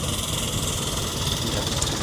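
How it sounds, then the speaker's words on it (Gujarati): A tractor-driven opener machine runs on a farm during wheat loading, giving a steady, continuous low engine drone with an even rumble and no breaks. "ઓપનર ચાલે છે ઓપનર"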